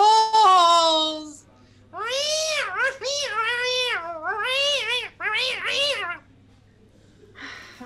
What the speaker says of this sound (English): My cat is being a jerk right now.